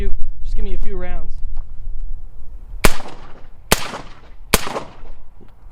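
Rifle fitted with an OSS suppressor fires three sharp, evenly spaced shots after a person finishes speaking, each report close and crisp with a short decaying tail.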